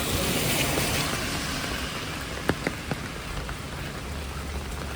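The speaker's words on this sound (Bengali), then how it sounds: "তো আজকে সারাদিন বৃষ্টি হলো" Steady rain falls outdoors, a continuous soft patter with a few sharper drop taps partway through, and no voices.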